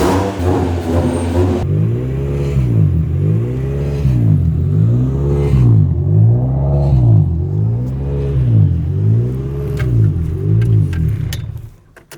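A car engine on a test drive revs hard and close in repeated rising and falling surges, loud and steady throughout, then fades out sharply at the end, with no voices.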